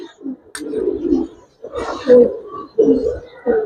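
A male Giribaz highflyer pigeon, brown with a light body, gives several short, close coos in bursts, with faint speech in the background.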